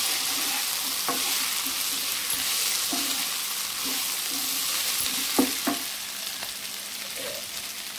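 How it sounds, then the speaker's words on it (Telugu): Onion and potato roast in a pan for a Telugu aloo and egg curry, with a steady low sizzle under scattered scrapes and clicks from stirring. The stirring knocks come at irregular intervals, and there is no talk. "చూడండి, ఆనియన్ ఆలుతో పాటు చక్కగా రోస్ట్ అవుతుంది."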